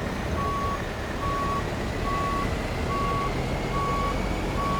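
Truck reversing alarm in American Truck Simulator while backing a trailer with a Peterbilt 352 cabover, sounding six steady evenly spaced beeps over a constant loud engine drone.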